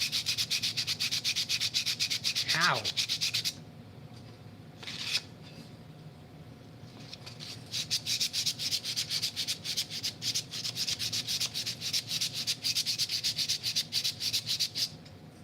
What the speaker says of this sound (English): I don't know how sanding could ever be ASMR. Like, it is the most horrible noise.